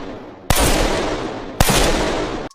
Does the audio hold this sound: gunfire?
yes